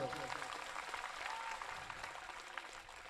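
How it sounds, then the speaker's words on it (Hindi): Audience clapping at a religious gathering at Shri Brahmeshwar Dham, a dense, fairly faint wash of applause heard at a distance, steady throughout. "ताली बजा सकते हैं आप लोग।"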